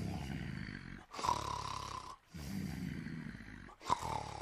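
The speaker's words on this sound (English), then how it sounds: "Listen, I'd recognise that snoring anywhere." A cartoon character snores in slow, rumbling breaths, each long drawn-out snore broken by short pauses, fairly close and steady with no talking.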